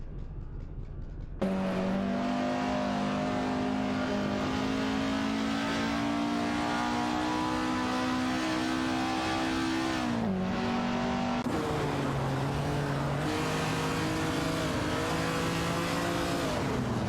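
Race cars in an AI racing video game accelerating, a loud continuous engine whine rising in pitch, dropping briefly after a gear change and then climbing again, with no voices.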